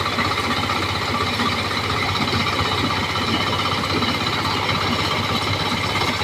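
A rice thresher separating palay from straw, a loud continuous mechanical rumble and rattle with churning, knocking texture, running steadily throughout without speech.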